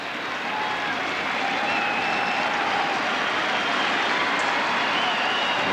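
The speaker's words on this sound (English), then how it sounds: "Pretty good crowd here today. Yankee Stadium. Just about capacity." Baseball crowd at a near-capacity Yankee Stadium during a Yankees–Orioles game, a broad steady roar of many voices with no breaks, holding at an even loud level throughout.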